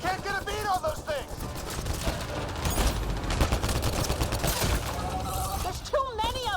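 Rapid bursts of gunfire and clattering weapon fire from a firefight in Mass Effect: Andromeda, dense and loud across the whole stretch, with shouted voices and alien calls mixed in at the start and end.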